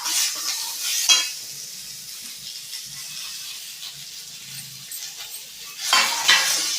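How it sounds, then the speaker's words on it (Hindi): Curry leaves stirred as they fry in a pan, a light sizzle with spoon scrapes and clinks, bursts of crackle at the start and again near the end, no talking. "अब इसमें इस करी लीव्स को भी हम डाल देंगे।"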